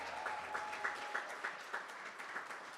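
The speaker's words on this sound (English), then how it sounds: "Another round of applause." A crowd at a presentation ball bursts into steady applause, with dense, even clapping that carries on without a break and is heard on its own, with no voices over it.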